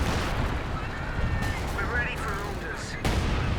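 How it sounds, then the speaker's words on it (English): Long-range artillery fire in Company of Heroes 2, heard as dense, continuous gunfire and explosion-like rumble with some sharper bursts, with faint voices mixed in behind the battle. "Some long-range artillery coming in."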